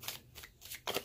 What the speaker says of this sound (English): I'm shuffling right now.